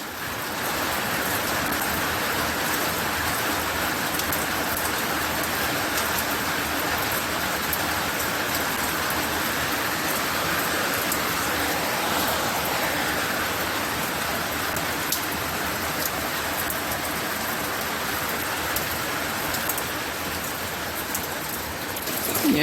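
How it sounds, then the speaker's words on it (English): Light rain falls steadily outdoors, a soft, even hiss of drops on surfaces that holds constant with no voices or other sounds. "Not heavy, but it is falling."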